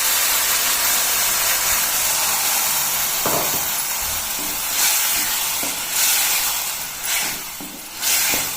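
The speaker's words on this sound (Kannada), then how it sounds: "ಈಗ ಇದಕ್ಕೆ ನಾವು ಮಾಡಿಟ್ಕೊಂಡಿರೋಂಥ ಗ್ರೇವಿನ ಹಾಕೋತಿದ್ದೀನಿ" Prepared palak paneer gravy sizzles in a hot pan with a loud, broad steamy hiss that surges and eases in waves, dotted with small pops and the clack of utensils.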